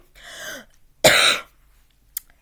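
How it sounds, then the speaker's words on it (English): A single harsh cough burst close by, preceded by a rougher throat-clearing sound and followed by a brief faint catch. "it makes me cough"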